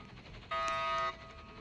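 A bright electronic alarm tone in a prison escape video game sounds for about half a second, steady and clear, with quiet background noise before and after.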